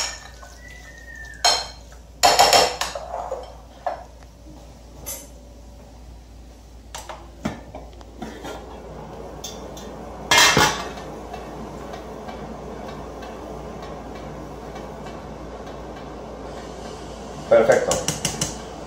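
Metal cutlery prodding and clinking against potatoes in a pot that has been boiling for 40 minutes for a homemade Russian salad, with a few sharp knocks spread across a quiet kitchen background.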